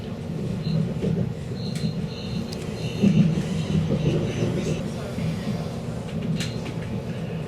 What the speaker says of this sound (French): nous prenons ce train régional pour Villars, notre prochaine étape